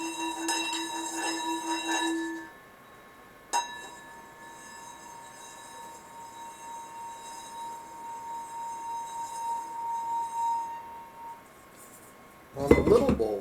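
A singing bowl rimmed slowly with moderate pressure rings with sustained, shimmering pure tones that hold and swell gently. An earlier lower hum fades out, and a short burst of clattering noise comes at the very end.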